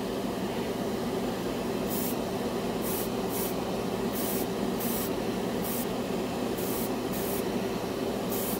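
An airbrush sprays Vallejo Mecha Color paint over black in short hissing bursts, about ten of them, close up against a low background hum.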